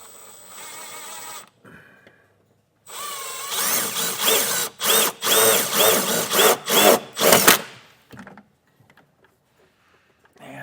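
A power drill drives a self-tapping screw into a 2017 Toyota during brake controller installation: a quiet start, then a loud whirring run broken into rapid on-off bursts as the trigger is pulsed, ending in near silence.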